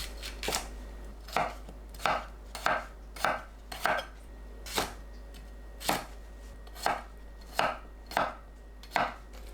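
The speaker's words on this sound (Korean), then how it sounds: "한입 크기로 썰어줍니다." A knife cuts a deseeded bell pepper into bite-size pieces on a board, about fifteen sharp, crisp chops at a fairly even pace, close and clear, with no talking and a low steady hum underneath.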